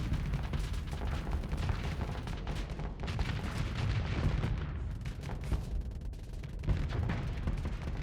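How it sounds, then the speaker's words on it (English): Missiles launch and fire in the space combat game Starsector, a dense, continuous rumble of rapid thumping shots and blasts at moderate level without pause. "Launching my own missiles."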